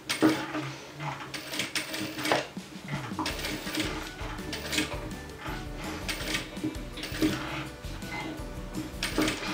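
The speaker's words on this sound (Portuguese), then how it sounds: "eu ergo o pé e deixo a agulha enfiada no tecido e continuo a costura." Sewing machine stitching fabric in short mechanical runs, its needle clattering rhythmically in bursts separated by brief pauses while the fabric is turned around a curve for a cloth gift box.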